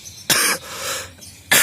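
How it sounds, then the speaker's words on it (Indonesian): Two sharp coughs from a man outdoors beside a red Bangkok star fruit tree, separated by about a second of quiet, near and loud with no speech. "kok batuk-batuk ini"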